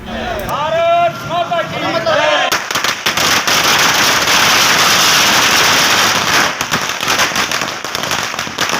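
Fireworks set off by party workers at an outdoor political celebration, a loud dense crackle of firecrackers bursting continuously for several seconds, following a moment of nearby voices.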